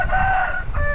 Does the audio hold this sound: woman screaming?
no